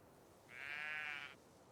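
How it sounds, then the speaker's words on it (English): A single bleat from a mountain goat or sheep in the video game Ghost Recon Breakpoint, lasting under a second, faint and distant over quiet outdoor ambience. "heard that little goat, or sheep. I think we've got mountain goats and sheep here."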